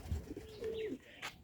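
A Capuchin pigeon gives a single soft, close coo with a rising and falling tone, followed by a brief faint chirp, with no talk.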